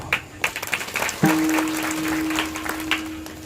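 An audience claps through a religious discourse in a village hall, with loud, dense applause rising and continuing steadily, a few voices and a sustained electronic tone audible under it.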